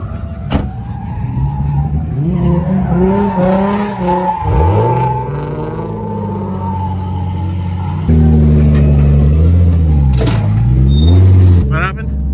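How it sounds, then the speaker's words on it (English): A car being pulled off a trailer with its tow chain still attached, engine droning and revving with rising and falling pitch, a brief tire squeal, close and loud throughout. "We're gonna pull the car off the trailer"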